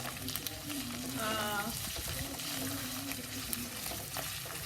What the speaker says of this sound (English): I've just added mustard seed, and I'm waiting for them to crackle